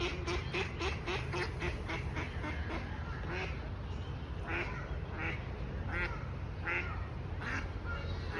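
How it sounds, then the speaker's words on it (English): Ducks at a zoo quack repeatedly in a loud, busy run of overlapping calls as they chase each other, close by over steady background noise. "DJ, you see them ducks?"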